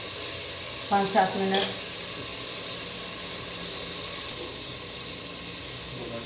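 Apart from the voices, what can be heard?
aloo gosht (meat and potatoes) frying in a pan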